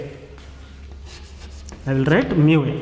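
Chalk or marker scratching on a board during a physics lesson on refraction, a steady rubbing texture through the first two seconds before a teacher's voice comes in over it.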